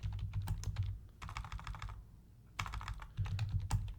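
Fingers type on a computer keyboard up close in two quick bursts of clicking keystrokes, separated by a short quiet pause.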